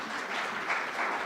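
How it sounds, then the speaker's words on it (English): An audience claps for the chair at the 15th Commonwealth Regional Conference, a dense, even wash of applause that holds steady at moderate loudness throughout. "he deserved a round of applause for the chair"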